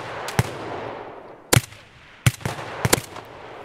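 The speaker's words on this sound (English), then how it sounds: "I knew somebody was shooting around here as well." Gunfire in the shooter game Escape from Tarkov: four separate bursts of sharp shots, some single and some in quick doubles, crack out at uneven gaps over a low background rumble.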